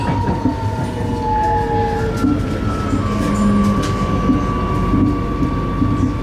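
An Amsterdam metro train runs steadily through a tunnel, a loud continuous rumble with wheel and track noise and faint tonal whines, and no one speaking.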